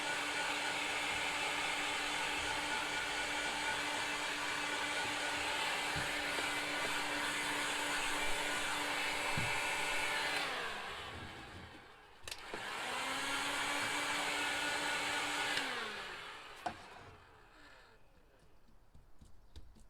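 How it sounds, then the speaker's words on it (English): Heat gun drying fresh spray paint blows a continuous airy roar that stops and restarts twice near the end, its pitch falling and rising again, with faint handling knocks in between. "See, that one's almost dry now by using the heat gun."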